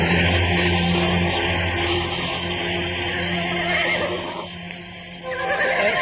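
A horse neighs loudly in a radio drama sound effect, a long whinny close up over steady background ambience, with no talking.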